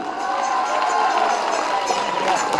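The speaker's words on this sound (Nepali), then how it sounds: "जोरदार ताली।" Audience applause at a campus stage function in Walling: dense, steady clapping that holds at an even level throughout, with no break.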